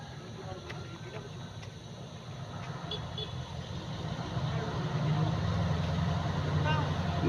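A truck on a western-southern Aceh highway labors in low gear, its engine droning low and steady, then swelling louder as it pulls, with faint clicks and knocks riding over the rumble and no voices.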